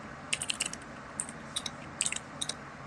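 A clicky mechanical keyboard rattles out short bursts of sharp, quick keystrokes, faint and fairly close, with brief pauses between the flurries and no voices.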